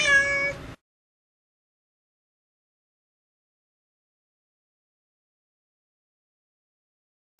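A tan tabby cat, male and neutered, meows at an SPCA shelter, one brief clear meow at the very start followed by near silence.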